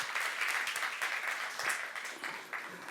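Church congregation at a youth service sermon applauding, a dense, steady wash of many hands clapping that fills the short moment without pause.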